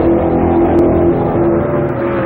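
A 1967 Can Am race car at Road America running at full throttle, its engine a loud, steady, close roar with a sustained drone and no letup.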